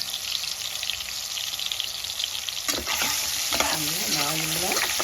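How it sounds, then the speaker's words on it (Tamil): Potatoes marinated in chilli powder, salt and olive oil fry in hot oil with a constant, close hissing sizzle, joined halfway through by a wavering tonal whine. "இதை வந்து இந்த ஆயிலில் வந்து ஃப்ரை பண்ணி எடுக்கணும்."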